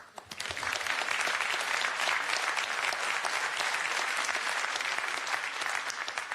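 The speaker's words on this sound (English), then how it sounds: "I thank the President, and I think your applause is in order." Applause at a European crisis response conference: a large audience claps in a dense, sustained wash that swells quickly and holds evenly, no voices standing out.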